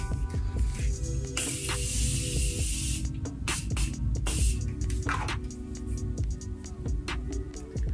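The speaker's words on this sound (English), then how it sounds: "Morphe Continuous Setting Mist." Morphe Continuous Setting Mist sprays onto a face in a long fine hissing burst, then a second shorter spritz, close and clear, with faint handling noises and no speech.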